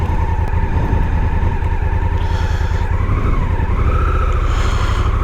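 A car in Sport 2 mode with traction control maxed pulls away from a stop, its engine loud and close with a droning, rising note and a brief tire squeal, no talking.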